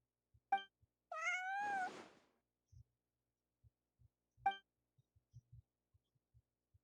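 A cat in the video game Genshin Impact gives one clear, rising meow, briefly preceded and followed by a few soft, scattered taps and footstep-like thumps in an otherwise quiet scene.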